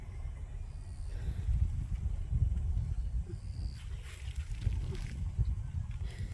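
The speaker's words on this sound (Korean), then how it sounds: "바람이 이렇게 부는지 바람이 되게 시원하게 부네요" Strong outdoor wind blows across a farm field on a cool evening before expected rain, making a steady low rumble with rising gusts that buffet the microphone throughout.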